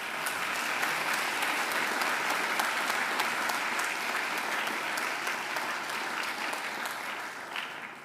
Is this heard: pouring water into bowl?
no